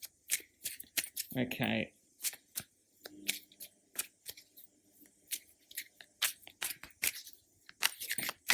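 Marseille tarot cards are shuffled in a series of short, crisp riffling flicks and taps, close and fairly quiet, with a brief spoken word partway through.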